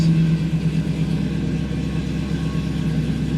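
A 1968 Camaro SS restomod with a supercharged 650 hp LT4 V8 idles right after a cold start, a close, steady, deep rumble that settles slightly after a louder first moment, with no talking.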